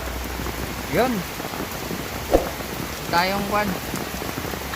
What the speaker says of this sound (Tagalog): Lalong lumakas ang ulan, no?